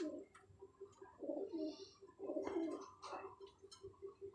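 Pigeons, Kamangar and Golden Teddy birds, coo in soft repeated bursts close by, with faint chirps and ticking in the background and no one speaking.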